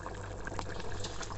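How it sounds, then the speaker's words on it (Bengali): Fish curry simmering to a boil in a pot, a soft, close bubbling and gentle liquid burble throughout the short stretch, faint and steady with no talk. "এই যে বলক আসছে"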